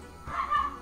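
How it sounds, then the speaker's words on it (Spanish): A pet dog playing nearby gives a single short bark or yip, heard alone at moderate loudness. "Lo siento por mi perro, está ahí, juegue y juegue."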